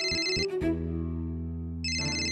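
An electronic phone ringtone plays a short melodic tone pattern, pauses on a sustained note, then starts ringing again; loud and close with no talking.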